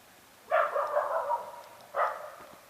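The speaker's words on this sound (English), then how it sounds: "go see what Sandy's barking at" A dog gives two barks at a moderate distance, the first drawn out and the second shorter, with quiet background between them.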